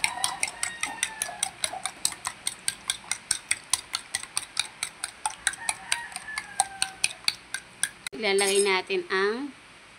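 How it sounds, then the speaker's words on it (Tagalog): A whisk or fork beats eggs in a bowl with quick, even clinks that repeat steadily for about eight seconds, followed by a short burst of a louder, sustained sound near the end. "Kaya magbabati naman tayo ng itlog."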